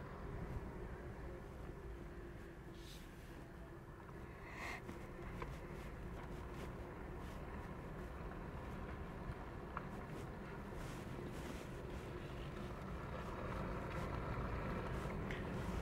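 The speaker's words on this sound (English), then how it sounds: "a little bit of a hum from the electric motors, but mostly just tire noise from the tires as you go over pavement" Inside a 2023 Jeep Wrangler 4xe Rubicon cruising on pavement, steady tire roar dominates with a faint electric motor hum underneath, a constant low rumble that builds slightly toward the end.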